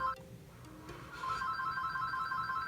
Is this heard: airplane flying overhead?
no